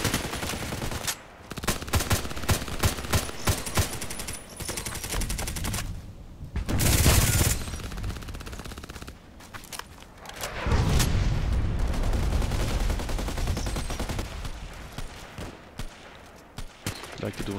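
Rapid bursts of HK 417D assault rifle fire in a first-person shooter game, loud and close, with dense repeated shots, a few heavier booms and brief pauses between volleys.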